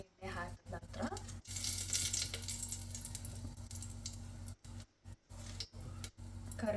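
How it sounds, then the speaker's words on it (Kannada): Bay leaf frying in a spoonful or two of oil in a pressure cooker, a quiet steady sizzle with intermittent clinks and stirring, broken by a few short gaps. "ಕುಕ್ಕರಲ್ಲಿ 1-2 ಸ್ಪೂನ್ ಎಣ್ಣೆ ಹಾಕ್ತಾ ಇದ್ದೀನಿ. ಫಸ್ಟಿಗೆ ಪಲಾವ್ ಎಲೆ ಹಾಕೋತಾ ಇದ್ದೀನಿ."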